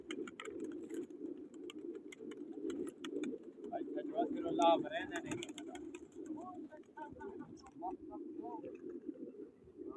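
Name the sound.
pigeons cooing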